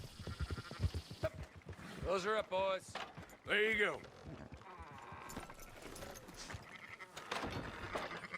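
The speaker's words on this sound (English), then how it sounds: "Fine sheep." Sheep in Red Dead Redemption 2 let out several wavering bleats close by, mixed with hoof clops, while someone speaks over the animals.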